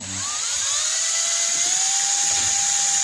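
A folded Scotch-Brite pad on a rotary tool hones the inside of a 1959 Mitsubishi Silver Pigeon scooter carburetor, giving a steady, loud high-pitched whine that rises slightly in pitch and runs alone throughout.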